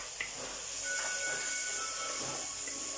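Turmeric powder sizzling in hot oil in a pan for a village-style catfish curry, a steady, loud, close hiss that runs without a break and has no talking over it.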